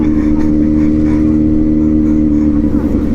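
A loud, close Kawasaki Z900 motorcycle engine rumbles steadily and idles with a throbbing low tone.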